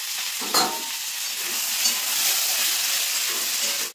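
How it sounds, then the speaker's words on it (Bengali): Cut taro pieces frying in a pan with a little salt and turmeric powder give a steady, close hiss and sizzle, with a brief stirring scrape near the start, before cutting off abruptly at the end. "সামান্য পরিমাণ হলুদ গুঁড়ো দিয়ে একটু ভেজে নেব"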